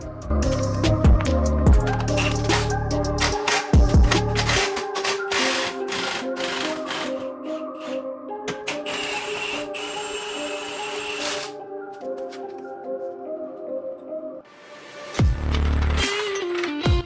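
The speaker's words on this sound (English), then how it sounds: "we're going to use an impact for that" Pneumatic impact wrench working the 21mm lower control arm bolts on a BMW 335i during a coilover install, loud rapid hammering bursts with pauses between, ringing metallic clatter and a whirring spin-down, close to the microphone.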